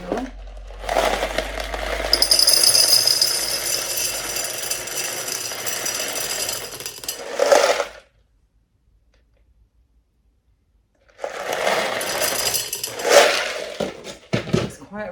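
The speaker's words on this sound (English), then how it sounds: "I'm going to put some lacquer balls in the bottom" Clay LECA balls poured into the bottom of a plant pot during anthurium repotting: a dense rattling, clattering rush that runs for several seconds, stops briefly, then resumes for another short pour.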